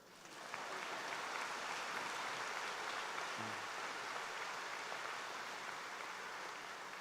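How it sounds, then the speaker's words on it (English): Audience applause fills a high school graduation ceremony, a sustained, even wash of many hands clapping that holds steady for several seconds at a moderate distance. "Clap now so I can take a breath."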